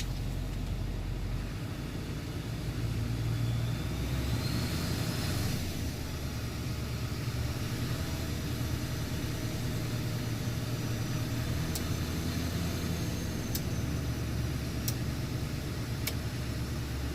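A 2006 Duramax LLY diesel with an MBRP exhaust idles steadily with a low, even rumble. A faint high whistle rides on top, and a few sharp high ticks come near the end.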